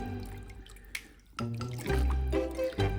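Fabric is pushed down into a pot of liquid. Quiet, close sloshing and dripping come in short bursts, with brief pauses between the splashes.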